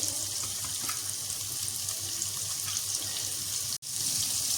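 Chopped onion frying in a pot for dum keema gives a steady, dense sizzling hiss throughout, broken by one brief dropout near the end.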